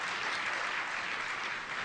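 A large keynote audience at the f8 2010 conference claps together in a dense, even burst of applause that holds steady for the whole stretch, with no voices on top.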